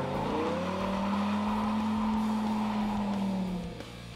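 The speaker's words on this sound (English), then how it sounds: "Not only does the new exhaust sound better, it helps increase torque from 500 to 560 pound-feet" A 2008 Dodge Viper engine through its new exhaust, with a loud sustained roar whose pitch climbs and holds steadily before easing off at the end, heard alone with no talk.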